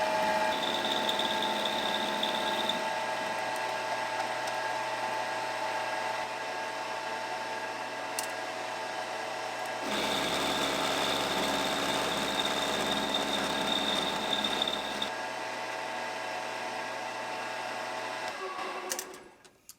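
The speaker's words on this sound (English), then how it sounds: "let's go ahead and machine the one side of the wrench flat" A milling machine takes a cut across one side of a steel wrench being made into a check valve removal tool for a Coleman lantern. Its steady hum runs throughout, with the cutting noise strengthening in two stretches.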